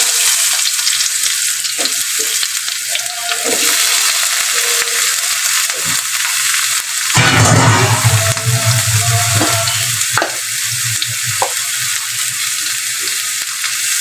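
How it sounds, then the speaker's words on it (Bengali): Black cumin seeds, potato and eggplant frying in hot oil, a loud continuous crackling sizzle close by that surges into a fuller hiss midway as the vegetables hit the pan, with occasional stirring scrapes. "এই কালো জিরা ফোড়ন দিচ্ছি আলু বেগুনটা দিয়ে দেবো"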